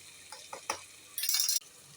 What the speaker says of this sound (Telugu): టమాటాలు అన్నీ బాగా ఫ్రై అయిపోయినాయి